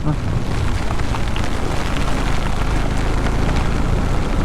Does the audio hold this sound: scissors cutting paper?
no